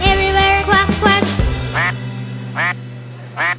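A voice sings duck-like quacks in a nursery rhyme over music, imitating a duck with several bright, nasal quack bursts spaced out across the line.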